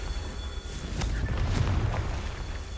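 Confringo fire spell explosions in the Harry Potter video game Hogwarts Legacy, played on PC: a heavy, continuous low booming rumble with scattered sharper blasts, loud and close throughout.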